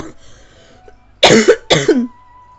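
Two harsh, close coughs in quick succession after a quiet moment, each a loud rough burst from one person.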